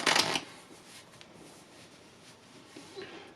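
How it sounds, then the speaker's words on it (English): Playing cards riffle shuffled for an Erdnase top stock control, a crisp burst of fluttering card slaps at the start, then quieter handling rustles and a small second riffle near the end, close and with no voices. "You shuffle, making sure to leave the top few cards on top"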